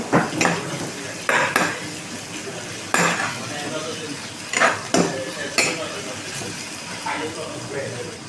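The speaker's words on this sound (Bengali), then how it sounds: "পেঁয়াজগুলা কষাতে আছে" Onions frying in a pan for loitta fish bhuna, a low sizzle under repeated clinks and scrapes of a metal spoon against the pot, with someone talking over the cooking.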